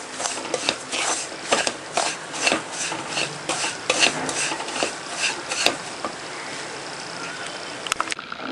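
A spoon scraping and rasping against a pan as semolina (rava) is stirred while dry-roasting for rava laddu, steady rhythmic strokes, close and clear, with no talk over it.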